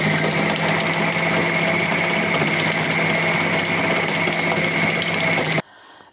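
A blender chopping watermelon for homemade ice cream, running as a loud, steady motor whine with a constant pitch, then cutting off abruptly near the end.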